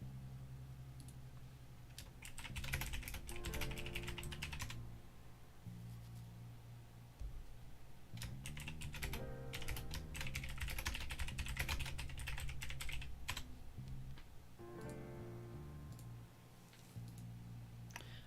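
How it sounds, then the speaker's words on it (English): Rapid bursts of keystrokes on a computer keyboard rattle close and clear, broken by short pauses, with a low steady hum underneath and no talking. "all the typing I was doing"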